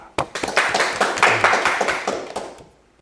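An audience at a Korean Christian talk program claps together for a couple of seconds to welcome guests, a dense patter of hands that swells and then fades out.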